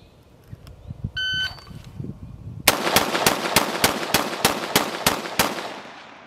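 Rifle fired in a timed 10-10-10 drill from a high port, muzzle-up start: after a short electronic timer beep, ten loud, sharp shots ring out in a fast, even string, each close and cracking.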